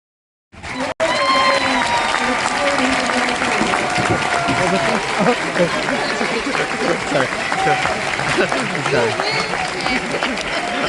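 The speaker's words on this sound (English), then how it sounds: "Ladies and gentlemen, please give a round of applause." A ceremony audience honouring soldiers claps steadily and loudly for about ten seconds after a sharp onset, with a crowd murmur and scattered voices mixed into the applause.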